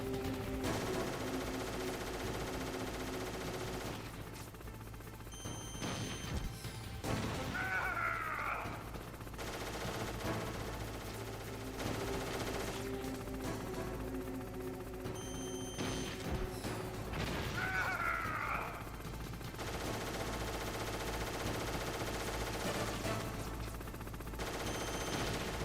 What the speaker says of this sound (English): He's probably going to swing around and start shooting in a second.